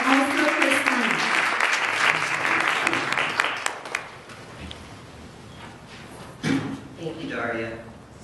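A crowd at a corporate diversity talk claps for a sponsor, loud at first and then thinning out, as a speaker's voice takes over with a few scattered claps and a knock.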